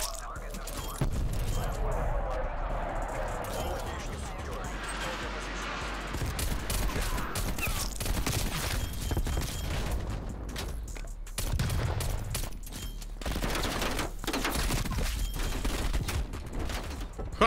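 Akimbo pistols in Black Ops Cold War, firing in rapid bursts of sharp shots that come and go through a busy match, mixed with game noise and a player's voice talking.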